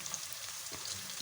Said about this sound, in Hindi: ये देखिए हमारी प्याज ब्राउन होने में तकरीबन स्टार्ट कर दिया है।